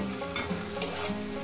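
Tomato frying in a pan with fish head, okra and potato over low gas, a brief close sizzle with a couple of light spatula taps.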